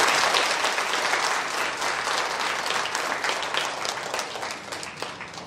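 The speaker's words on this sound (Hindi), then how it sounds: "ताली बजाइए।" A religious gathering's audience breaks into sustained applause, a dense wash of many hands clapping that stays loud and then slowly eases over several seconds.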